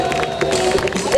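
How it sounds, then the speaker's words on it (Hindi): Applause from an audience at a festival event honoring its organizers, a dense wash of clapping and crowd noise filling the short moment, with voices mixed in. "के लिए भरपूर तालियां"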